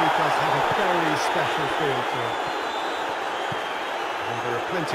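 A capacity football crowd fills a stadium before Liverpool play Villarreal in a friendly, a dense, continuous roar and murmur of supporters heard under a commentator's voice.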